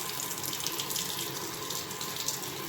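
A studio bathroom tap turned on lightly runs a steady, gentle stream of water into a sink, continuous and close with no voices.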